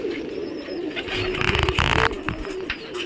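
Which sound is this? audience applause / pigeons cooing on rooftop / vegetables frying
pigeons cooing on rooftop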